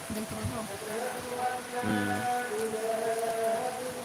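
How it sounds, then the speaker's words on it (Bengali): Steady light drizzle falling outdoors on a rainy day, a soft continuous wash with occasional drips, with faint background noise and tones. "বাইরে শুধু বৃষ্টি হচ্ছে টিপটাপ বৃষ্টি"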